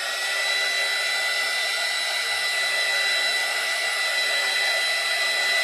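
A hair dryer blows steadily on alcohol ink painted onto a ceramic tile, a loud, close, unbroken whooshing hum that holds level throughout.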